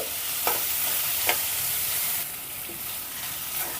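Onion and green chilli sauté in a pan for a hotel-style Bombay chutney, giving a steady close sizzle with a few sharp scrapes of stirring at irregular points. No voices.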